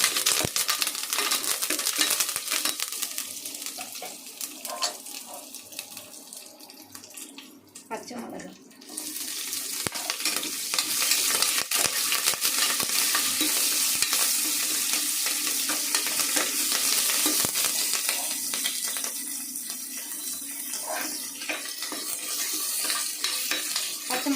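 Chopped onion and tomato sauté in hot oil for chicken biryani, a broad steady sizzle with scraping stirs, briefly dipping midway before resuming at full strength; a voice is faintly present.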